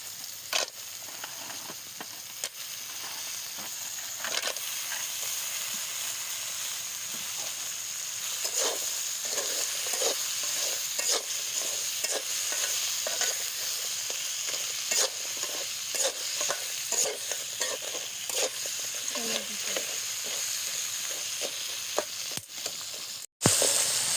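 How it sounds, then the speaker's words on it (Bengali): Crabs fry in a pan with a constant bright sizzle, broken by repeated scraping and tapping as they are stirred and turned, close and moderately loud, with no speech. "প্রথমে আমরা ক্রাবসটা ফ্রাই করে নেব, তারপর কুচিয়া মাছটা।"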